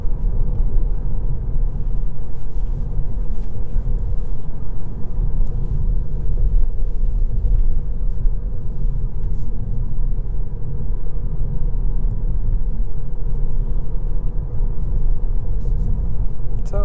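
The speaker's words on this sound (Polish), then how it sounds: "i dołącza się silnik spalinowy." Kia Niro HEV hybrid with 1.6 GDI petrol engine and 6-speed DCT, combustion engine joining in while accelerating on an out-of-town test drive: a steady low engine and road rumble fills the cabin throughout, no talk.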